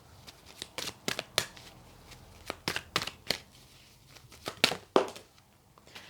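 Tarot cards are shuffled and drawn during a reading, a close series of crisp slaps, riffles and flicks in irregular clusters, alone without talk.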